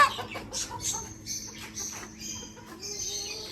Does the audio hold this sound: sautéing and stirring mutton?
no